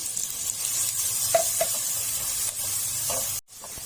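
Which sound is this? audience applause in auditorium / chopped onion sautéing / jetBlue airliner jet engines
chopped onion sautéing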